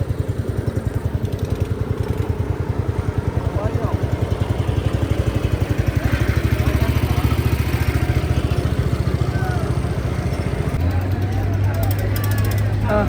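A boat engine on the Narmada river drones steadily throughout with a rapid mechanical chug and a slight rise in pitch near the end, while voices carry faintly over it.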